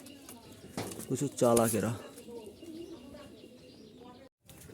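A pair of Jalali pigeons coo nearby with soft, throaty calls and a few chirps, partly under someone talking.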